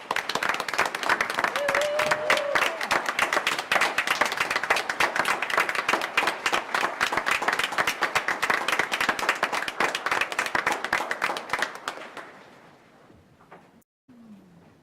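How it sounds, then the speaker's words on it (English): Sustained applause from a school board meeting audience, a dense steady round of clapping for about twelve seconds before fading to scattered claps, with a brief voice early on. "to give our retirees an applause."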